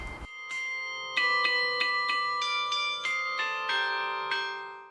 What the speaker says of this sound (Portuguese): o próprio som dos sinos